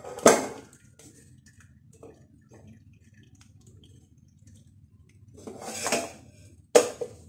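Fried potatoes are drained from a pot into a strainer: a metal clank, a quiet pause, then a brief rush of liquid pouring and a final sharp clatter of cookware.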